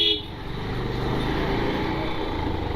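Road traffic on a rainy Pune commute, with a short horn toot near the start and then a steady, loud rumble of engines and road noise throughout.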